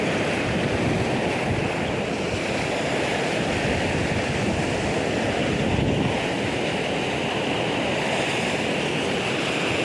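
Sea surf at a beach rolls in as a steady, broad roar, mixed with gusty wind buffeting the microphone, constant and fairly loud throughout with no talking.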